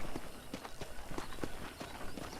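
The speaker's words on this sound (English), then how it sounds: "let's see if you can still ride a horse" Hoofbeats of a horse being ridden in Red Dead Redemption form a quick, regular clip-clop at moderate distance, soft and continuous over faint background ambience.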